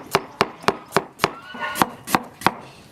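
A knife chops scallion, ginger, garlic, onion and cilantro on a cutting board. Eight crisp, evenly spaced strokes land close by, with no talking.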